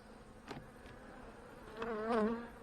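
Honey bees buzz around an open hive frame during a winter food-stores check, a steady hum with a louder buzzing pass near the end.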